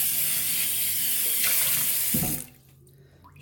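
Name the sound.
scrubbing and rinsing a cast iron cornbread pan with hot water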